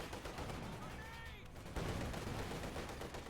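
Faint, dense bursts of machine gun fire rattle in a Company of Heroes 2 battle, layered with distant combat noise and a soft voice briefly heard underneath.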